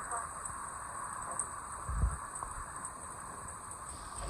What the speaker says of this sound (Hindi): कराची में इस वक्त हो रही है बारिश